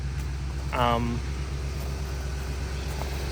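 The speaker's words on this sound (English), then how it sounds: "It definitely idles a little high right now." A carbureted car engine idles slightly high, a steady low rumble holding constant throughout, with a brief voice speaking over it early on.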